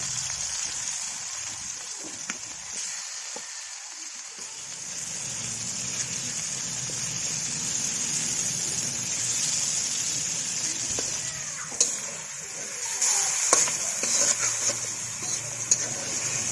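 Tomatoes coated in spices fry in hot oil with a steady, close sizzle, broken near the end by a few sharp clinks and stirring knocks.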